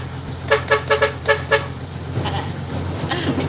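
A car horn honks in a quick run of about six short toots, loud and close, then gives way to a murmur of road traffic and engine noise.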